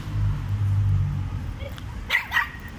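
A small dog gives two quick sharp yips near the end, following a low rumbling background.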